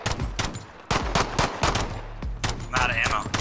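Rapid bursts of automatic gunfire in a squad-based shooter video game with an Uzi, sharp repeated shots in quick clusters, loud and close, with faint voices underneath.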